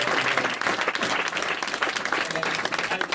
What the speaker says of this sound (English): if we could give Ethan and Paolo, if he ever comes back, a round of applause